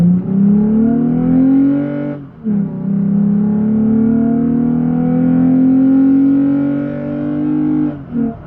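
A 2020 Toyota Tacoma pickup with a K&N cold air intake revs up through the gears onto a highway, the pitch rising in long pulls with brief dips at each shift, loud and close from inside the cab.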